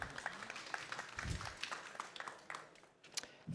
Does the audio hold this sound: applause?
yes